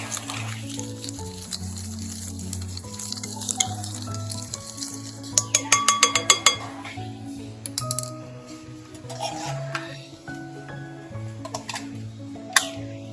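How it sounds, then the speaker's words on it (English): A spoon clinks and scrapes rapidly against a cup while stirring instant coffee, sugar and hot water for dalgona coffee, with a burst of quick metallic ticks midway and a low hum underneath. "Mix them well first."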